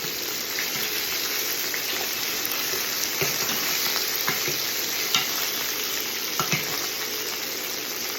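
Chicken cutlets frying in oil in a pan give a steady, dense sizzle throughout, with a few louder crackles and pops rising above the constant hiss.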